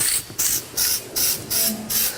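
Six short bursts of aerosol spray paint hissing in a regular rhythm onto a steer's leg from a distance, each lasting about a quarter second with brief pauses between.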